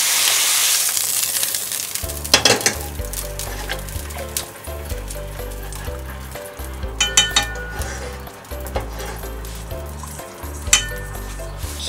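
Stir-fried ingredients sizzle loudly as they go into a pot of dashi broth for okara soup, with metal clinks and scraping of utensils breaking through the steady frying hiss.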